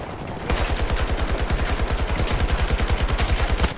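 Rapid automatic weapon fire in Battlefield 2042 from a Zain build, a steady stream of closely spaced shots starting after a brief pause and running loud and close for about three seconds before cutting off.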